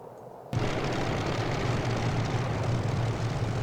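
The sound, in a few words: P-51D Mustang propeller engine taxiing, MSFS 2020 video game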